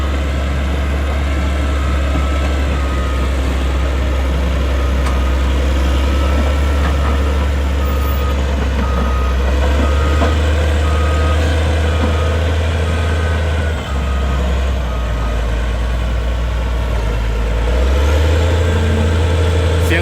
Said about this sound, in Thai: เครื่องยนต์ของแคทซิบิล่านี่ค่อนข้างที่จะดังกระหึ่มครับ